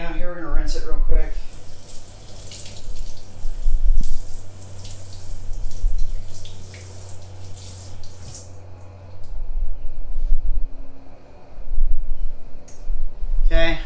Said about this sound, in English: We're gonna rinse it real quick.